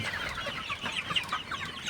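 Many Sonali chickens cluck and chatter together in a steady, fairly quiet flock murmur in hot, humid weather, with no voices.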